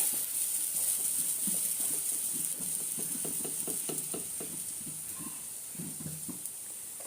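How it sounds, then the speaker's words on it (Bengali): Ground spice paste with onion, garlic, ginger, coriander and chili powder fries in hot oil, giving a steady close sizzle and hiss, with occasional stirring scrapes and taps in the pan. "আর বেটে রাখা মশলা, পেঁয়াজ, রসুন, আদা, ধনিয়া গুঁড়ো, মরিচের গুঁড়ো দিয়ে আমি মশলাটা তেলে কষিয়ে নিচ্ছি।"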